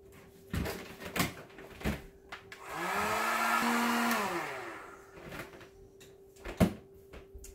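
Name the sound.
heat gun blowing on glitter paint pour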